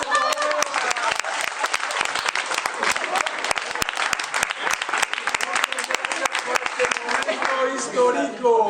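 An audience at a neighbourhood association fiesta claps, a dense continuous crackle of many hands with sharp individual claps, while voices murmur through it and a speaker comes in near the end.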